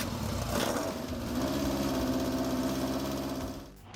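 A 1966 Munch Mammoth motorcycle engine runs with a steady, rough mechanical drone and a low throbbing pulse, holding constant before dipping briefly at the end.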